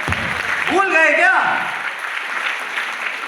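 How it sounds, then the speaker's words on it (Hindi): Audience applause at a ULP program event in Guwahati: steady, dense clapping fills the room while a voice speaks over it. "अरे जून के लिए तो ताली बजा दो"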